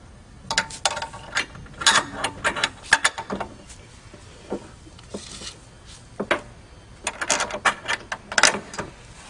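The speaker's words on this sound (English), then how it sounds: "we are going to install our step onto our mounting brackets and bolt them up using our 1/4 inch bolts" Quarter-inch bolts tightened on the mounting brackets of CARR Hoop II steps: close, crisp ratcheting clicks in short irregular bursts with pauses between.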